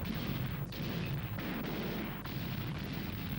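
German artillery shelling in WWII archival footage: a dense, continuous roar of gunfire with several dull booms breaking through, noisy and distant-sounding, with no voices over it.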